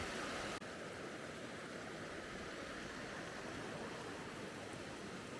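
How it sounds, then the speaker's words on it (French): Waterfall pouring down into a lake in northern Italy, heard as a steady, dense broadband rush that holds unbroken and fairly loud throughout, with no voices over it. "Mais là-bas, la cascade. Il y a l'eau qui descend jusqu'au lac."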